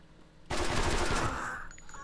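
Sudden loud burst of gunfire erupts in the underground shooter game The Stalin Subway, a dense rapid volley that holds strong for about a second before tailing off into echoing reverberation, with no talking.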